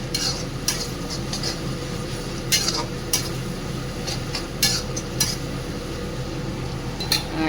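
Garlic and green chillies fry in a pan under a steady sizzling hiss, punctuated by repeated sharp metallic scrapes and clinks of a spatula stirring, close and moderately loud, no speech.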